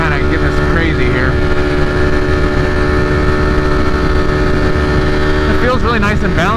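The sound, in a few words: Ducati Streetfighter V4 motorcycle engine accelerating while riding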